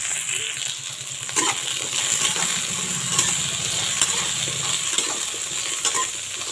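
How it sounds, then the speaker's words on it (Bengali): Cauliflower, potato and carrot pieces fry in a pan, a constant loud sizzle under frequent metallic scrapes and clinks of a spoon stirring against the pan, close and without talk. "ফুলকপি, আলু, গাজর সবটাই দিয়ে দেবো, কারণ এটাকে ভালো করে ভাজতে হবে।"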